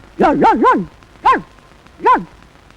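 A man practising mimicry imitates a dog barking: three quick yelping barks in a row, then two more single barks after short pauses, close and fairly loud.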